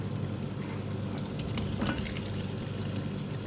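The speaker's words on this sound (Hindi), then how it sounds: "आलू डाल के इसको मिक्स कर देंगे अच्छी तरह से।" Boiled, colored potatoes are stirred into a simmering chicken Sindhi biryani masala, a steady close sizzle with soft scraping and stirring, and no talking.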